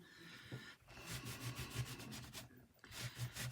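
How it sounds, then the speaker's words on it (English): A wet wipe rubbed back and forth over a painted tag, giving a steady run of close, soft scrubbing strokes with a short pause midway. "I'll just rub it down with a wipe"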